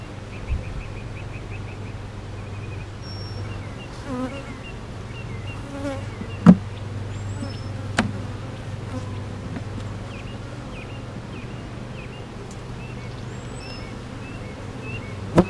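Honey bees buzzing around a hive feeder, a steady close droning hum that fills the whole stretch, with a few sharp knocks and faint bird chirps over it.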